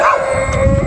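A dog on a residential road gives a loud, close, drawn-out whining bark-howl, a single tonal cry that slides and fades, with no talking.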